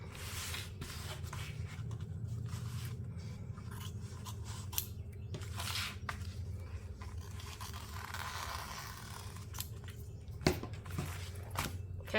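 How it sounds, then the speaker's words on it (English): Scissors trim fabric seam allowance on a bag's pockets, a series of soft, close snips and rustling scrapes spaced irregularly, with fabric handling between cuts. "you can go ahead and trim down your seam allowance if needed on the sides of the pockets"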